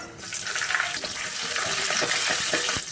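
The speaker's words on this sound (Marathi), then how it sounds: "तेल तापल्यावर मोहरी टाकते जिरे टाकले ठेचलेल्या लसूण पाकळ्या टाकल्या हिरवी मिरची टाकली" Mustard seeds, cumin, crushed garlic cloves and green chili hit hot oil in a pan, giving a loud, close, steady sizzling hiss with faint crackles, continuous for a few seconds.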